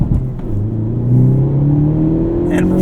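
A 2024 Hyundai Elantra N with a six-speed manual revs under acceleration while driving, its engine tone climbing steadily in a loud, close interior drone with a brief shift-like dip near the start.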